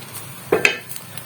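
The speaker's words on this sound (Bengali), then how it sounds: "দেখুন, এবার আমি ঢাকাটা খুলবো।" A metal lid is lifted off a pan of oats uthapam cooking on the stove, making a brief close clank and clink followed by a couple of faint light taps.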